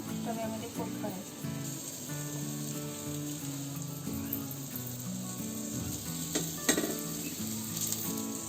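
Semolina-coated bombil fish frying in oil in a pan, a continuous close sizzle with crackling and occasional clinks of the pan, while a background voice and melodic sounds play faintly underneath.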